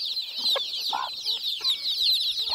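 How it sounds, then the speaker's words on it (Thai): Chickens being chased let out close, rapid, agitated clucks and squawks in a continuous stream lasting a few seconds. "ไก่ไล่นี่พี่น้อง"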